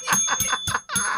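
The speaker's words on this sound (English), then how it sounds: "I'm ringing a bell, Max." A small bell, like a bicycle bell, rings in four quick, close, bright strikes in a rapid rhythm, loud and alone.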